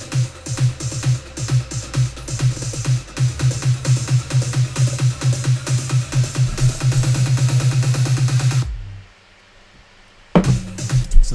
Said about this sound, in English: What I have done is found a lot of snares and layered them up together.